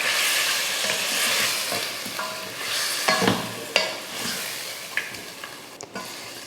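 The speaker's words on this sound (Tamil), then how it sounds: "சிம்மில் வச்சுட்டு ஒரு 5 நிமிஷத்துக்கு நல்லா வதக்கி விட்டுக்கலாம்." Chicken and masala paste sizzle in oil in a pan over low heat for Dindigul biryani, with steady frying hiss and intermittent scraping and stirring clinks from a spoon.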